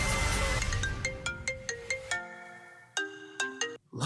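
A phone ringtone plays alone and clearly: a bright melodic tone sequence of short repeated notes, then a pause and a second higher phrase.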